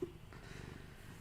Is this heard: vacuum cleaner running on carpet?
no